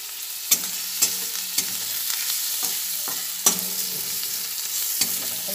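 Onions fry with turmeric in a pan, a steady sizzle broken by regular sharp clicks of a spatula stirring against the metal, close and with no voices.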